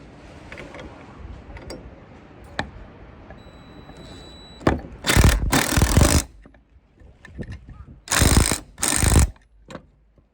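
A ratchet on a car bolt, a Nissan 180SX, gives short clicking bursts. Two louder runs of rapid ratcheting come a few seconds apart, close by, with quieter fiddling between them.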